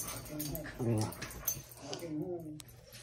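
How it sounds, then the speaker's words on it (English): Excited dogs whimper and yip close by during rough play, with whiny, high cries mixed with a person talking over them. "crazy dogs"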